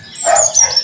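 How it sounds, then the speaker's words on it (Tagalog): A dog barks once, a brief loud yelp up close, heard on its own without talk. "Ay, ang ingay ng aso tuwing magbablog ako."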